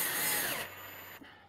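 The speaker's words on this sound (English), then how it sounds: "I'm just using an electric drill here to drive the screws this time" An electric drill drives screws into a wooden boat plank, a brief faint whir that settles into a steady low motor hum before stopping.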